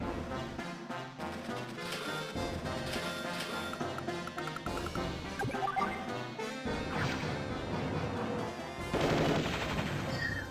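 Artillery fire in the Advance Wars: Dual Strike video game, a steady stream of chiptune-style booms, crashes and rapid blasts over game music, loud and continuous throughout.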